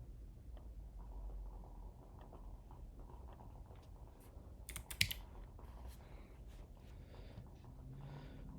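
Scattered computer keyboard typing, with light key clicks and a brief cluster of sharper taps over a faint room background.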